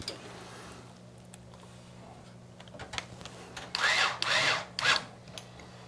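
Power drill with a magnetic bit driving motherboard screws during an AMD Ryzen gaming PC build, heard as soft ticking handling noises followed by three short, loud whirring bursts near the end.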